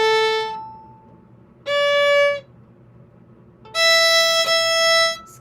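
A violin plays the third line of the beginner tune Lightly Row, three clear bowed notes with silent gaps between them, the last note held longest.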